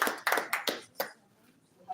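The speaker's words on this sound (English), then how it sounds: "A round of applause." Several quick hand claps sound in short, separate bursts and thin out, as if a small audience briefly applauds at a formal meeting between election officials.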